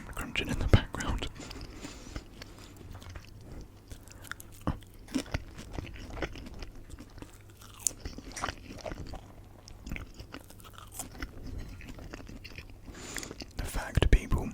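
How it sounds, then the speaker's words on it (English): A cat crunches on food nearby, producing a steady run of small, close biting and chewing crackles at low volume, accompanied by soft whispering. "My cat's starting to jump into our own meal, so you may hear some crunching in the background."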